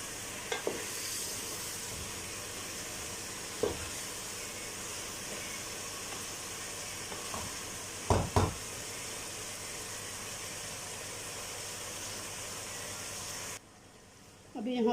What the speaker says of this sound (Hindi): लहसुन और अदरक के पेस्ट के साथ गोश्त को हम फ्राई करेंगे